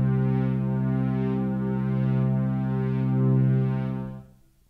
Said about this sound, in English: I'm going to leave it on the Hall algorithm because it's quite a deep sound.